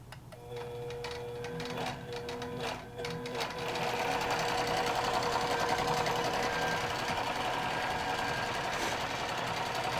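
QBOT quilting machine stitching a quilt: a rapid, steady mechanical whirring and clatter that starts after a few soft clicks and then runs continuously and moderately loud to the end.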